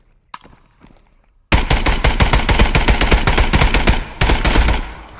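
Sustained automatic 5.56x45 rifle fire in the Contractors Showdown video game, a loud rapid burst running nearly a whole magazine after a brief quiet start, with one short pause before it resumes.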